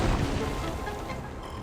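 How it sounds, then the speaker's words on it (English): A super missile blast destroying a pillar in Metroid Prime Remastered, a single close, heavy boom at the start that fades into a rumbling, crumbling tail without any talk. "You gotta fire a super missile at it to destroy it."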